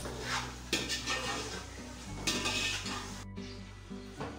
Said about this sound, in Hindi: चिकन को फ्राई कर रहे हैं और इसमें हल्का सा विनेगर डाला है